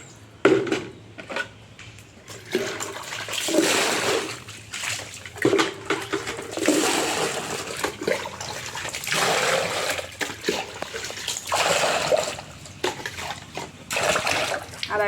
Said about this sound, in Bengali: আরও দু একবার জল পাল্টে পাল্টে ধুয়ে নেব।